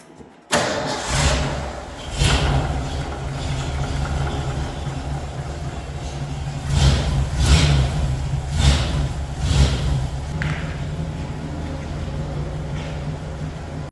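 An air compressor kicks on abruptly and runs steadily while a tire is aired up during a Fiero trailer build, a loud continuous mechanical drone with a few surging pulses, close by.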